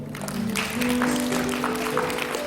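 A church congregation at Hamilton Global Village Church in New Zealand claps in sustained, dense applause over steady sustained tones underneath.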